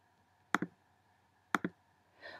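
Two quick double mouse clicks, about a second apart, sharp and close in a quiet room while pixel edits are erased, followed by a faint rustle.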